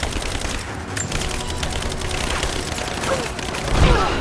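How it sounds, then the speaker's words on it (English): Rapid gunfire in a Rise of the Tomb Raider firefight, a dense, steady stream of shots with a heavier burst near the end, with voices talking over it. "Cover and fire! She's reloading! Shoot her!"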